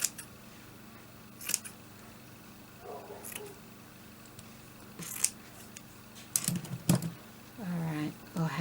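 Scissors snip through paper during a vintage doily book and journal craft project, giving a few short separate cuts with quiet gaps between them, close by, and a voice speaking briefly near the end.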